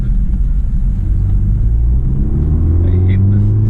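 BMW F30 320i with the B48 engine and FTP charge pipes accelerating hard on an open road, heard from inside as a loud, steady low engine drone that rises in pitch toward the end.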